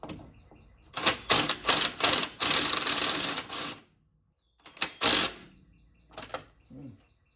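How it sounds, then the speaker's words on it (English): A wrench working on the drive shaft bolts of a Jeep Wrangler during a rear main seal job, heard as rapid metallic ratcheting bursts, two long runs followed by shorter clicks, loud and close, with no voices. "Yep, looks like we're going to use a good old wrench."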